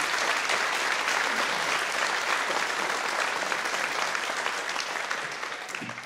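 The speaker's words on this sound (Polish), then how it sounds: "także brawa dla mnie" Sustained applause from an audience at a discussion event about a Kashubian wedding film, dense and steady throughout before thinning slightly near the end.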